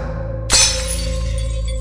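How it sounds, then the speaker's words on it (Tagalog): A sudden crash of shattering glass indoors, as if something has fallen, bursting in loudly after a low steady hum and then ringing out into a long scattered tinkle of debris. "biglang may bumagsak sa loob na parang may mga nababasag"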